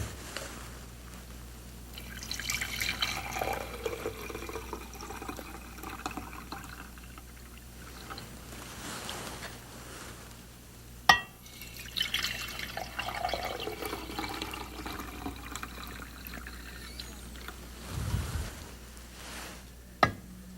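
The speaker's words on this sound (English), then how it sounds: "I'm going to add some silver sulfate to each beaker." Silver sulfate solution is poured from a container into glass beakers holding copper wire, two separate gentle liquid pours with a trickling, filling sound, separated by a sharp glass clink.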